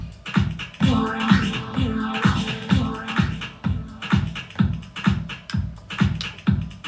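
A steady electronic dance beat with a swirling, sweeping phaser effect moving through the sound, kick drums thumping regularly throughout.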